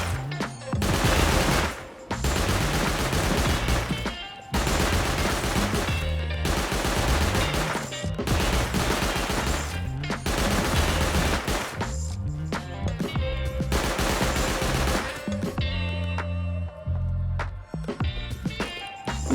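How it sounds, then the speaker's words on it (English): Auto turret firing in the video game Rust: long, loud bursts of rapid automatic gunfire separated by short gaps, close and harsh, repeating for many seconds with no talk. "I then proceed to spend the next 2 hours draining an auto turret"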